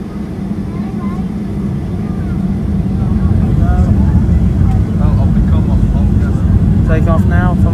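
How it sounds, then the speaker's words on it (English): Airliner taking off from Orlando Airport, a steady loud roar of jet engines building in intensity as it goes, with people talking over it intermittently. "takeoff now from Orlando Airport"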